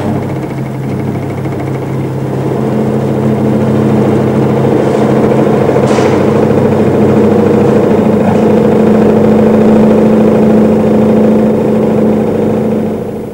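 A vibration test machine shakes a bolted joint at about 800 revs per minute, giving a loud, steady mechanical hum and drone with a rattling, engine-like buzz that holds constant throughout.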